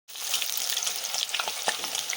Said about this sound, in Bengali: এবার আমি গ্রেট করা আলুগুলোকে ভেজে নেব